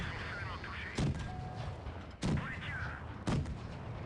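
The AMX 13 57 light tank's gun firing in World of Tanks Blitz: three sharp, evenly spaced cannon shots about a second apart, each a loud boom with a brief tail, over a steady game background hum, with a rising whine between shots.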